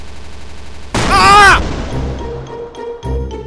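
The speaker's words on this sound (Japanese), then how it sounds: "今の子をクリックすると爆発したんだけど" A creature explodes after being clicked in the Minecraft video game: one sudden loud blast about a second in, fading into a low rumble, with a voice exclaiming over it.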